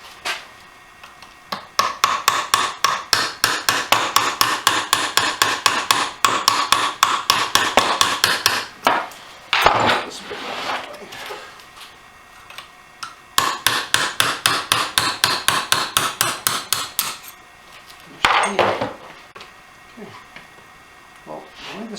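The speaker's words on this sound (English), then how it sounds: "you just kind of use a hammer and a punch and you knock it back" Hammer and punch driving a shift rail pin out of an AX5 manual transmission during teardown: two long runs of rapid, sharp metallic strikes, close and loud, separated by a pause with handling noises.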